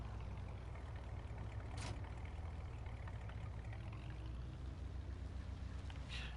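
A small pickup truck's engine idles and rumbles steadily in a Farming Simulator game on a farm, a continuous low drone with faint water-like noise over it, no voices.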